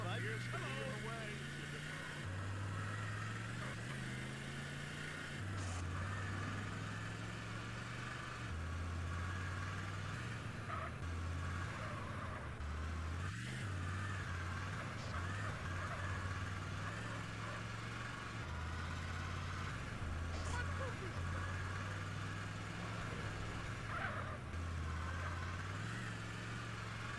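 A car engine idles steadily in the video game GTA San Andreas, a low continuous hum with slight shifts in pitch, under game sounds and some talking.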